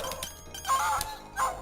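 A dog in the Shadow Dancer arcade game gives a few short, clipped barks and yips, close and fairly loud, set against electronic game music.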